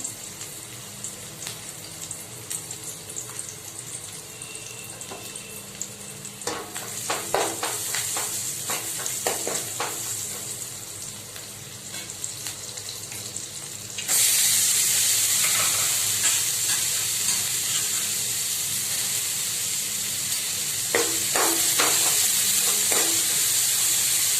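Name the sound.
frying egg roll mixture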